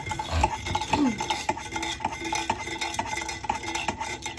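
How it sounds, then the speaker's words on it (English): A lime drop cocktail with lime juice being stirred, close continuous clinking and swirling of a spoon against a glass, steady and unbroken with no talking. "And then you stir all this together."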